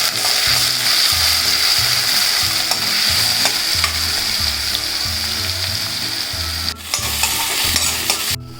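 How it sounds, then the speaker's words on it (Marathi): Onion, green chili and curry leaves frying in hot oil, a loud, continuous sizzle with rhythmic low knocks and scrapes as the pan is stirred over and over. "आता कांदा टाकतो हिरवी मिरची कढीपत्ता चांगलं परतून घेतो"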